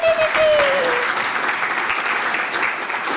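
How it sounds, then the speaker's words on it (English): Audience applause in a lecture hall at an academic ceremony, a steady, dense wash of clapping from a crowd that holds at an even level for about three seconds, with a faint tonal whistle near the start. "Give yourself a round of applause."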